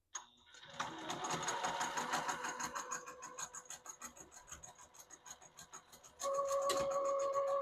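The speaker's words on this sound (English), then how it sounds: "So I just sewed that back and forth a few times" A single-stitch quilting sewing machine sews back and forth a few times on a small hand warmer project, a close rhythmic whirring that pulses as it reverses, ending in a louder, steadier hum.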